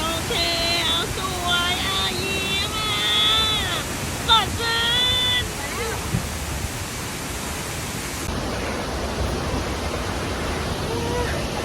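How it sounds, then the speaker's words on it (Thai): Constant rushing water of a waterfall roars steadily throughout, at Huai Luang Waterfall in Ubon Ratchathani, Thailand, with a voice talking over it in the first half. "บรรยากาศธรรมชาติเขียวขจีบวกกับเสียงของน้ำที่ไหลลงมา"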